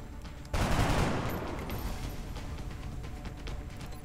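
Soldiers firing in the turn-based strategy game XCOM Long War, a sudden loud burst of automatic gunfire that bursts out abruptly, then trails into a sustained rattling volley with scattered sharp shots fading gradually.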